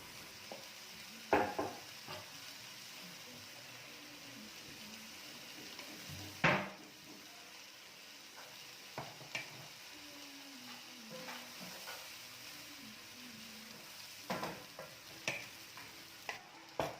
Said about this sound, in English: I'm going to mix all this so that we don't have plain white rice and we have vegetable rice